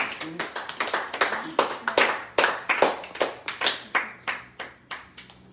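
A church congregation claps and acclaims, a steady run of loud, sharp handclaps in a lively rhythm over a faint murmur of voices.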